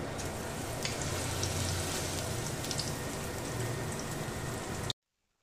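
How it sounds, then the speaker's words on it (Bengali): Batter-dipped pocket ash gourd stuffed with shrimp fries in hot oil, giving a dense, steady crackling sizzle with scattered pops, close and continuous until it cuts off abruptly into silence. "ঠিক এরকমভাবে ময়দার গোলার মধ্যে করে চুবিয়ে এটাকে ভালো করে ভেজে নেব।"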